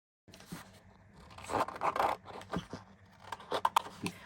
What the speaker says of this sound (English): I usually keep one for cutting paper, but you can also use scissors